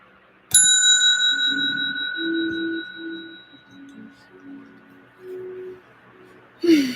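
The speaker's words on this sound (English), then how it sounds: "gonna ring this bell one more time" A small orange hand bell gives a sharp bright ding that rings out and slowly decays over several seconds, with a second strike near the end, while a voice talks underneath.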